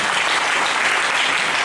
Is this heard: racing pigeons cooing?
no